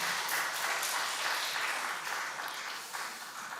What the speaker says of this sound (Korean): 우리 다시 한번 격려의 박수하겠습니다